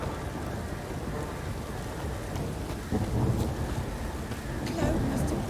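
Rain pours steadily in The Witcher 3, with rumbles of thunder swelling at intervals, the storm growing louder in two distinct surges.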